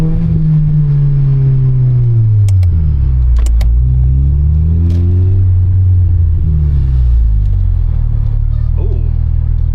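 Mercedes GLA 45 AMG engine revving hard inside a tunnel, its deep note climbing and falling in loud sweeps with sharp exhaust pops and crackles echoing off the walls.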